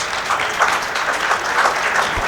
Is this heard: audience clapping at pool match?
yes